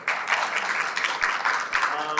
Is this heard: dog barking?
no